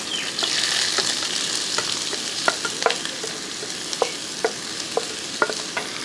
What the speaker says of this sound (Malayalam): അല്പം വെളിച്ചെണ്ണ ഒഴിച്ച് കൊടുക്കാം. അത് ചൂടായ ശേഷം ഈ അരിഞ്ഞ് വെച്ചിരിക്കുന്നത് എല്ലാം കൂടെ അങ്ങോട്ട് ഇട്ടേക്കാം